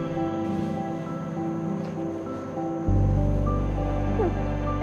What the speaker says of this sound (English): They say if you put it close to your ears, you can hear the waves of the ocean.